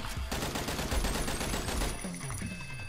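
Rapid automatic gunfire from a cursed weapon in a shooter video game, a dense continuous burst of shots for about two seconds that then breaks off into scattered game sound effects.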